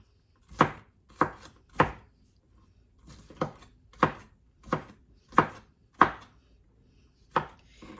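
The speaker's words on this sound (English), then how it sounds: "we're just gonna chop this up finely" Half an onion is chopped finely with a knife on a cutting board for crab rangoon wontons, about a dozen crisp, close knocks in uneven pairs and runs with short pauses, no voices.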